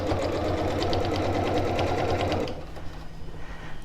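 A sewing machine stitches along a line on a reversible tote bag, running close and steady with a fast rhythmic drone for about two and a half seconds, then stopping and leaving a faint low hum.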